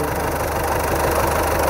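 A T-25 or MTZ-80 tractor engine idles at hay-mowing time, a loud, steady, close diesel rumble with a continuous throb and no voices.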